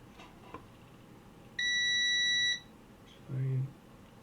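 A multimeter set to continuity mode gives one steady, high electronic beep lasting about a second against a quiet room hum, with a brief low buzz shortly after.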